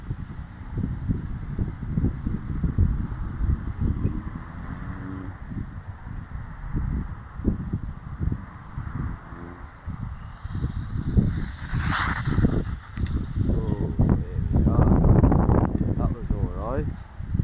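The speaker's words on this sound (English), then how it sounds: "A bit windy though" Wind buffets the microphone outdoors in low rumbling gusts during a WLtoys A959 RC car speed run, with a voice talking intermittently over it.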